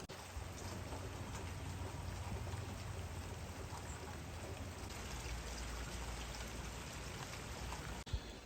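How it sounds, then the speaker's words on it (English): Heavy overnight rain falls steadily with a dense, continuous broadband hiss of drops and running water, loud and even throughout with no voices, amid flooding conditions. "The big rain is here."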